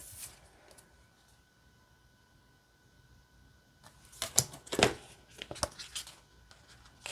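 A Lenormand card deck is shuffled by hand close to the microphone, with a couple of brief rustles first, then a quick burst of riffling and snapping paper cards with short pauses between.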